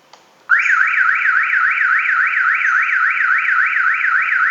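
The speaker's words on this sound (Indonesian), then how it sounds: "ini langsung nyala suara alarmnya" A car alarm suddenly starts blaring nearby, a loud siren sweeping steadily up and down in pitch without stopping.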